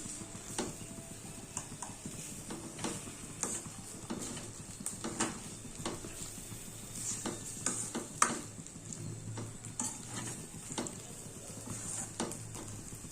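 Okra being stir-fried for a vegetable egg bhurji makes a quiet, close sizzle broken by frequent clicking scrapes of a spatula against the pan in an irregular rhythm, with no voices.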